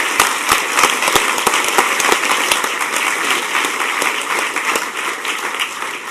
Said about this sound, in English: round of applause to all you guys.